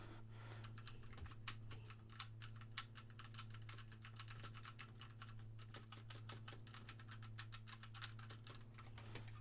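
Steady, rapid keystrokes on a mechanical keyboard with red switches, soft and even clicks with occasional louder taps, close up against a constant low hum.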